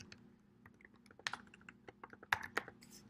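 Someone types quietly on a computer keyboard, an uneven patter of soft clicks, then a few firmer keystrokes toward the end, close by in a quiet room.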